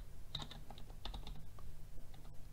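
Keys click on a computer keyboard in a quiet room, a short uneven run of close, soft taps ending with a firmer press of the enter key.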